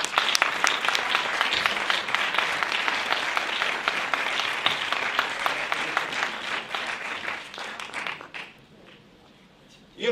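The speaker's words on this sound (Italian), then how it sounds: "vi prego di accoglierla con un caloroso applauso." A film festival audience applauds to welcome a director, giving sustained dense clapping that fills the hall at full strength for about eight seconds before fading out into near silence.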